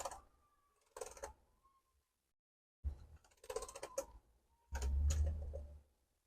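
Keys being pressed on the keyboard of a Samsung RV411 laptop during testing of faulty keys: sparse clusters of soft clicks and taps, close and faint, separated by near silence.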